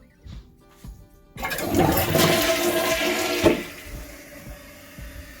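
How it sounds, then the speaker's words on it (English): A toilet flushes with a sudden loud rush of water that swirls for a couple of seconds, then fades to a quieter trickle and refill. "when I flush the toilet, this lid on the bottom of the tank is going to open up and start draining the water."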